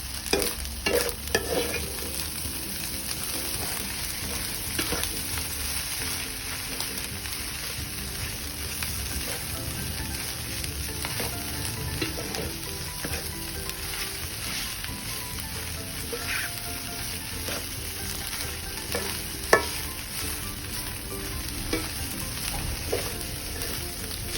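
Egg fried rice with minced pork is stir-fried in a hot pan, a continuous close sizzle broken by scraping and tossing, with an occasional sharp clack of utensil on metal, no voices.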